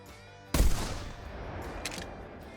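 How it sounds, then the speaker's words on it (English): A single loud rifle shot fired at a rock ptarmigan in the hunting game theHunter: Classic, a sharp crack followed by a long rolling echo that tails off over about two seconds. "I guess we'll just keep finding the flock and shooting them."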